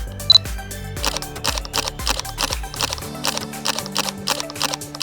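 Fujifilm X-T3 camera shutter firing during flicker-reduction test shots, a rapid run of crisp mechanical clicks in an even rhythm, close and clear with no talking.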